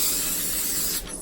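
Aerosol spray can hissing a steady close burst onto parchment paper while making keto pita chips, then easing off near the end.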